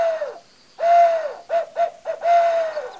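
A handheld owl call is blown to imitate a barred owl, giving a series of hooting notes: one long hoot, a pause, then a rapid run of short hoots and a final drawn-out one, loud and close.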